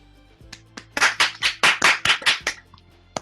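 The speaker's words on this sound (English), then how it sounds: "Let's give another round of applause to all of our great TEDx youth speakers today." Audience at a TEDx youth event claps for the speakers: a short burst of about ten sharp, fairly close claps in a quick even rhythm, rising and then fading out.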